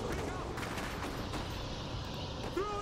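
Gunfire and explosions in the real-time strategy video game Iron Harvest, a dense continuous battle wash of shots and blasts with a sharper report near the end, loud and filling the mix.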